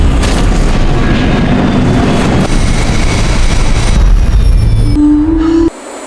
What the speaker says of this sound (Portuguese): Tem a cena do impacto contra o Hugh Hudson, que eu acho muito assustador.